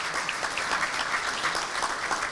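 Applause at a chamber of commerce awards evening for the sponsor Kitchen Expo, an even, continuous patter of many hands at moderate volume, filling the room without pause.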